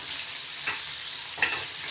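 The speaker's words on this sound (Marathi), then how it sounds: "साईडला ठेवलेले बोंबील ते तळले जातात मस्त" Bombay duck fish fry in oil on a tawa, giving a steady close sizzle with two short louder flares as the pan is moved, and no voices.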